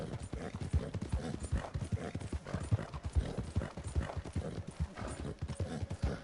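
Horse hooves clip-clopping steadily in Red Dead Redemption 2 online, a fast, even gallop rhythm of dull thuds running throughout at close range, with no talk over it.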